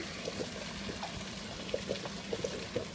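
Frank's wing sauce glugging from bottles into a pot for a buffalo chicken BBQ lasagna, a thick, quiet pour with soft irregular gurgles and plops, close by and alone.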